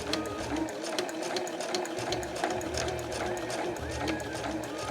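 A sewing machine runs steadily, close and continuous, stitching thin Liberty cotton fabric for a small round patchwork coaster made from scraps, with a rapid needle rhythm and motor hum throughout.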